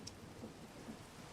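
Rain in a block-building survival game, a very faint, steady patter with a low rumble beneath, with no voices.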